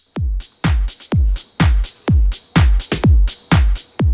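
A man imitates a common cuckoo with his mouth, drawing air inward to make about eight or nine evenly spaced, breathy hooting bursts that are close and fairly loud.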